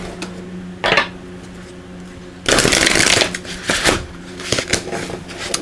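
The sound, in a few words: shuffling oracle cards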